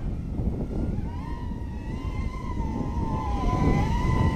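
A 130mm quadcopter drone with 1306 motors on a 3S battery whines at full throttle, a steady high buzz rising and dipping in pitch over a rushing background, heard alone with no talk.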